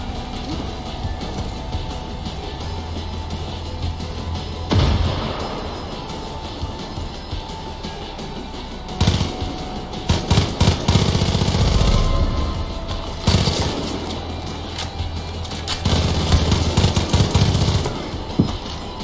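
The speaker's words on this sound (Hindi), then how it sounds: "पीछे आए दाएं बाएं हर तरफ से गोली चला रहा है।" Bursts of rapid gunfire from enemies closing in on all sides in the video game Far Cry 5, loud volleys coming in waves with short lulls between them, no voices.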